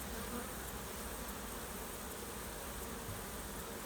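A swarm of honey bees produces a dense, continuous buzzing drone that holds steady throughout, heard from a short distance outdoors with no voices.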